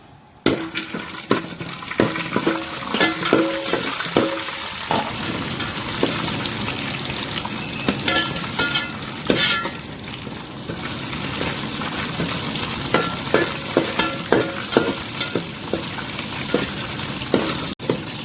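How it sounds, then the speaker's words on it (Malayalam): Cashews sizzle and crackle steadily in hot ghee, a dense, close frying hiss with occasional stirring clinks over it. "മുന്തിരി നമ്മൾ വറുത്തു കോരി ഇതിലേക്ക് നമുക്ക് അണ്ടിപ്പരിപ്പ് ഇട്ട് കൊടുക്കാം"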